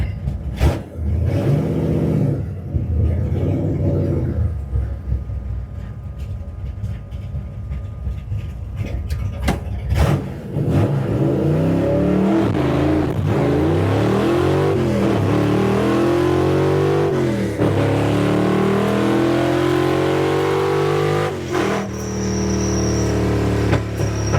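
Car roaring down a drag strip during a Montana race week, engine idling and revving at first, then climbing hard through rising gear sweeps for a long, loud acceleration run.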